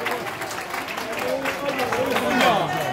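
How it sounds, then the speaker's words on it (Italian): A crowd at a birthday party applauds in a dense, steady patter of many hands clapping, moderately loud with people talking over it. "quindi facciamo un grande applauso"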